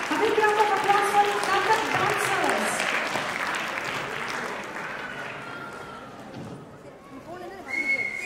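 Audience applause greeting Kathak dancers at a Tamil community cultural event, a steady crowd clatter that thins toward the end, heard through a hall with some background noise.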